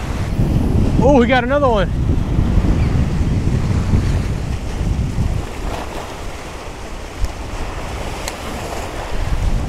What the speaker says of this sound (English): Ooh, this wind is blowing.